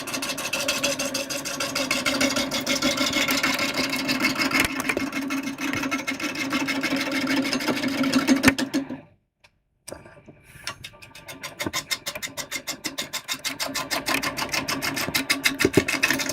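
Big wood blank spinning on a woodturning lathe at about 350 RPM, a steady motor hum with fine rhythmic ticking, cutting out briefly near the middle before the whirring rises again.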